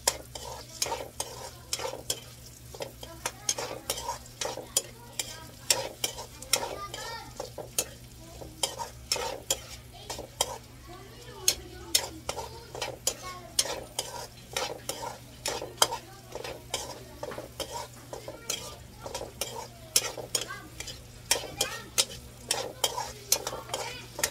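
Onion and garlic sautéing for chicken tinola, a steady close sizzle with a utensil scraping and stirring the pan in quick repeated strokes for a long stretch, no talking.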